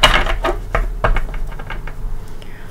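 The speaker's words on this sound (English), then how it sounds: "So let's give it a couple shuffles." A deck of tarot cards is shuffled by hand close up, giving a quick run of crisp riffles and soft taps at an uneven pace, with no voices.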